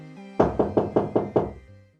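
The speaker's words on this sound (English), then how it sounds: "as there is another knock at the door." A run of six firm, evenly spaced knocks on a door, close and loud, with a quiet sustained tone before and after.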